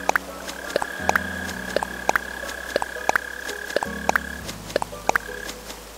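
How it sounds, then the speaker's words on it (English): A mole cricket chirps in Animal Crossing: New Horizons, giving short, evenly spaced pulses roughly every third of a second. The chirps are moderately clear over soft, steady background music. "And I hear another cricket."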